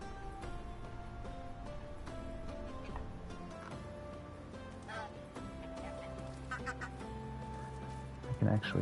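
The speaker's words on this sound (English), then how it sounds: "I can actually buy ducks now," Ducks quacking in the medieval farming game Medieval Dynasty, repeated calls scattered over a busy backdrop of game music and ambience, with a louder burst of quacks near the end.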